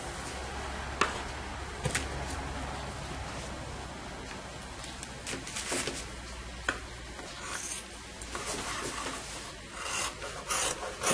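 Scissors cut fabric for a men's plus-size shirt pattern, giving a soft, steady rasping and rustling with occasional sharp snips, close but quiet, with no talking.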